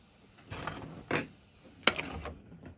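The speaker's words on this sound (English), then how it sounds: "there's beat frequencies between this mechanism and the machine that made the tape" Nakamichi 480 cassette deck transport running a test tape, giving a quiet mechanical whir punctuated by a few clicks and brief louder clunks.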